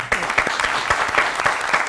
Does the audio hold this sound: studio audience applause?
yes